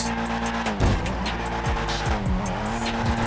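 A 1000 hp Volkswagen Golf in GTA 5 accelerates with a loud, high-revving exhaust that rises and drops through gear shifts, mixed with tire squeal and skidding, steady and close throughout.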